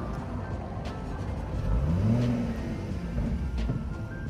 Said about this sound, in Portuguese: Olha o barulhinho quando ele liga.